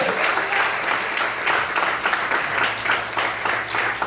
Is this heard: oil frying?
no